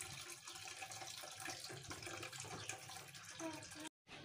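Hot water poured from a kettle into baby feeding bottles during sterilising, a close, continuous splashing and gurgling stream that cuts off abruptly near the end.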